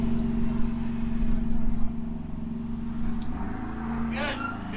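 Vehicle idling as a trailer is built, then pulling slowly forward as the clutch is let out; a steady low engine drone with a slight dip in pitch as it takes up load, close by.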